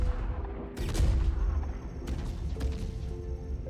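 A spaceship's front nose cannon firing in the space game Star Citizen, heavy booming shots with a punchy low thump and a rumbling tail, a few discharges spaced roughly a second apart.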